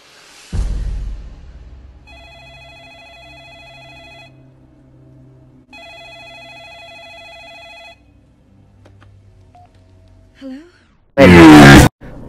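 A telephone ringtone in the VR game Job Simulator plays two clear electronic ringing bursts of about two seconds each, separated by a short pause, with a thud before and brief noises and a loud burst after.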